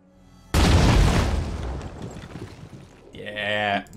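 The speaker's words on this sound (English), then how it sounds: "So Boom Blast is going to allow us to do 2 grenades" A grenade blast in the video game Phoenix Point: one loud, sudden boom that cuts in sharply, then a long rumbling decay that fades over a couple of seconds, followed by a brief tonal game effect.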